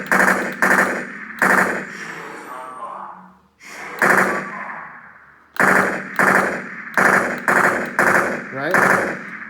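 Loud gunfire from the shooter video game BRX Arena comes in repeated rapid bursts, one after another, with a brief gap near the middle of the sequence.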